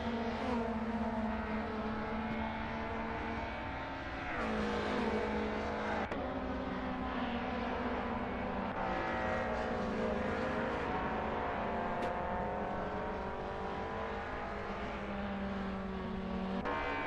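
WTCC touring race cars lap Watkins Glen in a racing video game, a continuous layered engine drone with rising and falling pitch as cars rev and shift, steady and fairly loud over the whole stretch.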